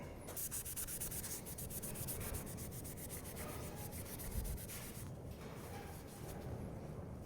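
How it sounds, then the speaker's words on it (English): Emery cloth rubs against a part from a high-mileage LS engine, cleaned with brake cleaner, in quick repeated abrasive strokes that give a close, rhythmic scratchy sanding sound. "Let me grab some brake clean and an emery cloth. I want to try to see if I can't clean that up."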